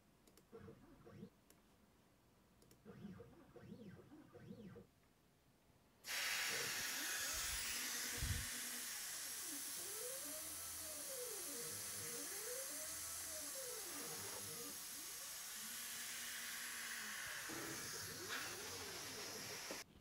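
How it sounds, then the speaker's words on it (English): A NEJE Max 4 laser engraver cutting 3 mm material gives a steady, loud hiss of the air-assist and exhaust that runs unbroken for about fourteen seconds, with faint whirring sweeps from the moving head. Speech comes before it starts. "we did our cutting and it cut perfectly fine"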